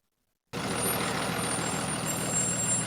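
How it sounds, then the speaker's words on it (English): A Newport News city bus passes with a steady engine rumble and hiss from its air brakes, the sound starting abruptly after a moment of silence and continuing at a moderate level. "That was a Newport News bus."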